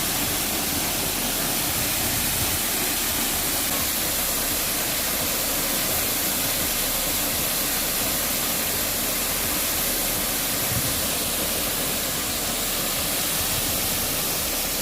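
A waterfall in the green forest of Shimba Hills National Reserve, Kwale County, Kenya, roars as a loud, steady, broadband rush of falling water with no voices.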